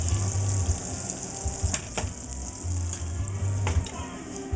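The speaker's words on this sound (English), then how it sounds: "we're going to saute off our shrimp" Shrimp sautéing in a pan for shrimp and broccoli Alfredo, a close, bright sizzle carrying low rumbling bursts and a few sharp clicks from stirring, with no voices.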